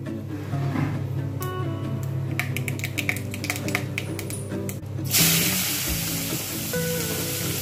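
Mace, cinnamon and cardamom fry in hot oil with a steady low sizzle and scattered crackles. Near the end the sizzle surges into a louder, broader hiss.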